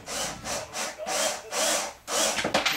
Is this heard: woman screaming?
no